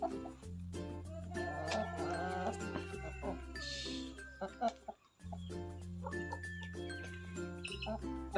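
A farm chicken clucks while held for deworming. Short clucks and chirps repeat close by over a steady background drone of tones.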